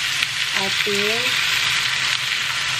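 Ground meat sizzling in a pan as it is fried and stirred, a loud continuous hiss with brief voiced sounds over it early on.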